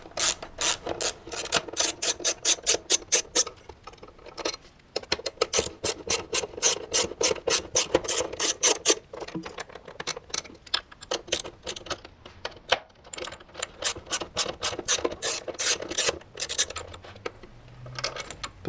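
Screws on a Honda CB500F motorcycle licence plate bracket are turned out with a 5 mm Allen bit, making repeated close ratcheting clicks in quick bursts, with short pauses between runs of rapid ticking.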